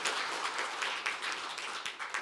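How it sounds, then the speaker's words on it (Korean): An audience at a policy forum on women-owned business policy claps for a brief spell, a dense mid-distance patter of many hands that holds steady without voices. "여러분 큰 박수 부탁드립니다."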